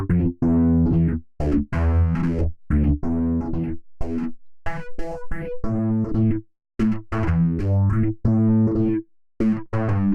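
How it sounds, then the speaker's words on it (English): A deep, thick bass synth preset in String Studio VS-2, driven through its distortion module, plays a rhythmic line of sustained notes, its tone gritty and saturated, loud and alone. "we can go to the distortion and drive this with distortion"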